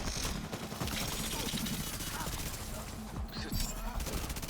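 Gunfire in The Division 2, dense rapid bursts of shots running throughout over a loud, busy game soundscape with sharp impacts near the end.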